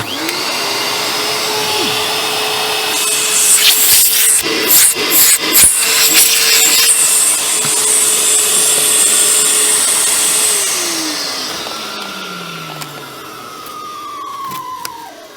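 A Hoover Turbopower 2 U2107 upright vacuum cleaner motor whines steadily for about ten seconds with scattered clattering bursts, then winds down in a falling tone as it is switched off.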